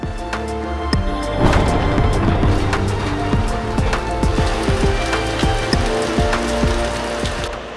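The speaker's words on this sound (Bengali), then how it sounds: "প্রচণ্ড বৃষ্টি পড়ছে বাইরে, বাজ পড়ছে, বিদ্যুৎ চমকাচ্ছে" Steady, heavy rain pours down outside during a thunderstorm in the Dooars, a dense hiss punctuated by sharp drips and taps striking a hard surface.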